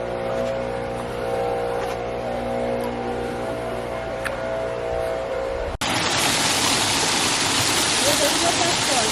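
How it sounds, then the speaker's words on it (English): A natural waterfall in a garden-like nature setting, first heard as a steady low rush under engine-like hum, then a loud, close, broadband roar of falling water filling the second half. "This is a nice waterfall there."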